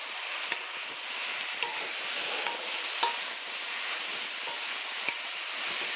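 Food seasoned with salt and freshly crushed black pepper is stirred in a hot pan, a steady close scraping and sizzling hiss with a few soft clicks of the utensil, running continuously without talk.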